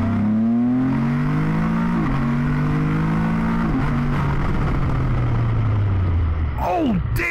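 A 2022 Can-Am Spider F3-T three-wheeler accelerates hard at full throttle, its loud engine note climbing steadily through gear shifts with brief dips between them, then fading into a whine and wind rush.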